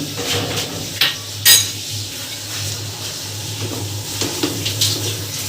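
Tap water runs steadily into a home kitchen sink while food is washed during biryani preparation. A few light clinks of utensils sound over the continuous splashing.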